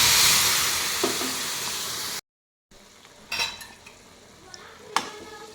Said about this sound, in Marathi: आता आपण यामध्ये 2 वाटी दूध घालूया।